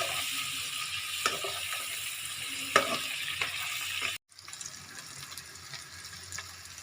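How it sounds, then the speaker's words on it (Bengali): Potatoes for aloo dum fry in a pan with a steady close sizzle and occasional stirring scrapes; the sound cuts off briefly, then the frying resumes, a little quieter. "ভালো করে আলুটাকে ভাজি।"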